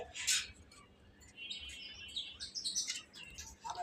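Budapest pigeons at a pigeon farm give several short bird calls and chirps, fairly close and moderately loud, with no talk over them.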